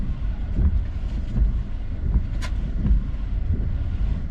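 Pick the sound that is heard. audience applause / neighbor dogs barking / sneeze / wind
wind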